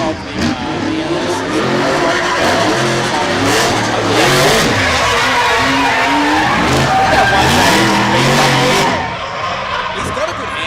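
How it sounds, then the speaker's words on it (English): A V8 drift car screams through repeated high revs with screeching, skidding tires on track at a drift series round, loud and continuous while commentators talk over it. "Sound of that V8."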